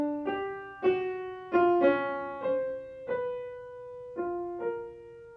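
A 20th-century style melody played one pitch at a time on a plucked, piano-like instrument, about eight separate notes in an uneven, angular rhythm, each ringing briefly, clear and solo.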